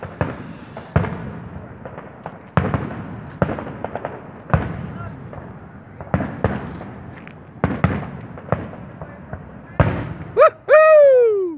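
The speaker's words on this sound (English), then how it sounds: "Oh, seeing little bits of fireworks here," Canada Day fireworks pop and bang in a string of sharp bursts, roughly one each second, moderately distant. A voice whoops loudly at the end.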